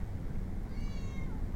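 An orange cat meows once, softly and with a drawn-out rising and falling tone, close by over a steady low room rumble.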